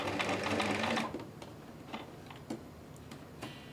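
Sewing machine stitching buttonholes on a summer dress, a loud close burst of rapid stitching for about a second, then quiet with scattered light mechanical clicks and taps.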